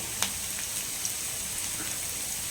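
Mustard seeds and fennel seeds sputter in hot oil in a home kitchen, a steady close crackling hiss with a few sharper pops, with no voices.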